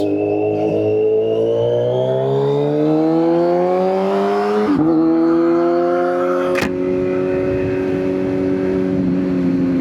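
A motorcycle climbs through the gears as it rides onto the interstate, its engine note rising steadily with each gear, with a brief shift break and whooshing wind noise.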